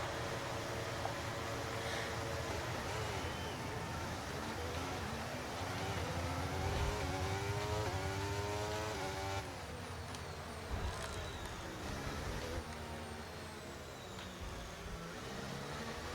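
Race cars starting an F1 23 race in the video game, a dense, loud engine roar with rising and falling revs that layer over one another and continue steadily throughout.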